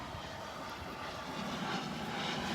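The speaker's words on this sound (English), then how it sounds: "Nice little corporate jet coming in." A corporate jet flying overhead on its approach above a beach by the Naples Pier gives a steady, broad roar that swells slightly toward the end, with no voices over it.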